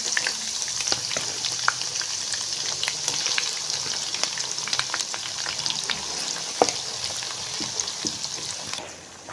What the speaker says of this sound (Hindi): अब इसमें हम आधा प्याज डालेंगे और फ्राई करेंगे।